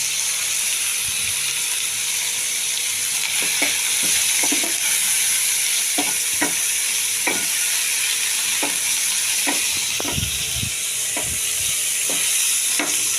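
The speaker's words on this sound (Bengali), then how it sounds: "চিংড়ি মাছ ভাজতে একটুখানি হলুদ সামান্য দেবো" Prawns frying in oil with a little turmeric and salt for a mung dal dish sizzle steadily up close, with repeated clicks and scrapes of a utensil stirring the pan.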